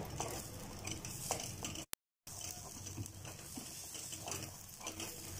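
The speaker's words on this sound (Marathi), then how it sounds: "आता बटाटे त्या तेलात आपण फ्राय केले, त्या तेलात वाटाणे पण करतोय." Raw green peas fry in oil left from frying potatoes in a pan, giving a steady soft sizzle and patter with occasional utensil clinks, broken by a brief silent gap.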